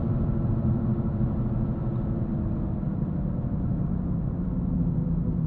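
Low, steady engine rumble from a 2017 Ford Fusion Sport's twin-turbo V6 while commuting, heard from inside the cabin as a constant muffled drone with road noise and no speech.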